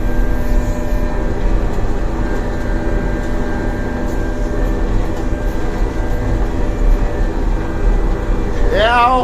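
A farm tractor strains to pull a stuck ten-wheel truck whose rear is buried in soil, its steady heavy engine drone continuous and close throughout, with a brief high squeal near the end.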